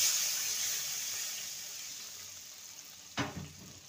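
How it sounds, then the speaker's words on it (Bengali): Milk poured into a pan of parwal sautéed with ginger, giving a steady close hiss and sizzle that fades slowly, then a short splashy burst near the end. "এবার আমি এখানে দিয়ে দেবো দুধ।"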